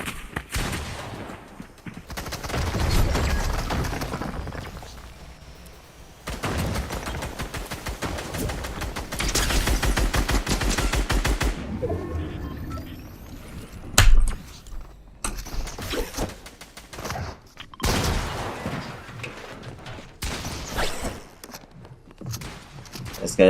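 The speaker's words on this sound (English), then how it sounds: "This guy's shooting an air gun." Gunfire in the video game Fortnite during a live match: repeated bursts of rapid shots in long volleys, loud and close, with a few single sharp cracks and some footsteps between them, faint talk at times.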